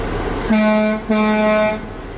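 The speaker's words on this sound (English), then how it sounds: "my air horn" A semi truck's air horn, sounded during a pre-trip inspection, blasts twice, each a loud, deep, sustained blare lasting over half a second, close by, with an engine rumble underneath.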